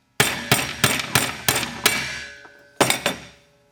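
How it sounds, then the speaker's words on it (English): A push rod hammers an axle out of a sulky wheel bearing set on a donut over the hub: six sharp metallic taps in a steady rhythm, then a short pause and two more quick hits, each ringing briefly, close and loud. "Take your push rod, tap that axle off the bearing."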